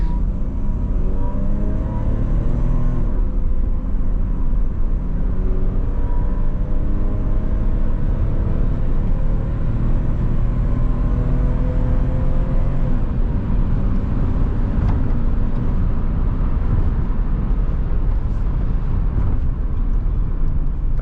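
A 1985 BMW 320i E30 with an automatic gearbox accelerates at full throttle along a straight road. The engine drone is loud and steady inside the car and rises in pitch, shifting once early on, for about twenty seconds with no talk.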